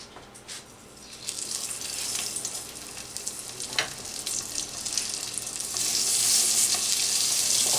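Lamb chops sizzle in hot oil in a thin CeraPan pan, a steady hiss that swells louder and brighter toward the end, with no talking.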